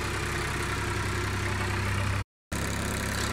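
A shiny new tractor engine idling and chugging close by in an even, throbbing rumble, steady throughout apart from a brief dropout near the end.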